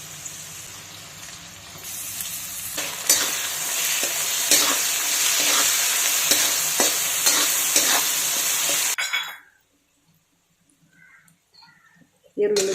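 Potato and green chillies sizzling in hot oil in a pan, a loud steady fry punctuated by repeated sharp scrapes of a stirring spoon, ending abruptly in near silence with a brief clatter at the close.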